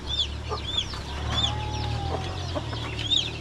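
A free-ranging backyard flock of chickens, including a hen, clucks and peeps nearby, with repeated high chirps over a steady low murmur of softer clucking.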